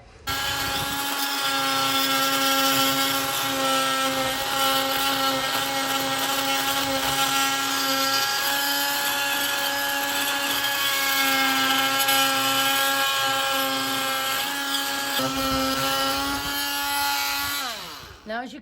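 Power saw cutting through a thick conch shell, a loud continuous whining buzz with shifting pitch as the blade bites into the shell for most of the clip before winding down, with faint voices underneath.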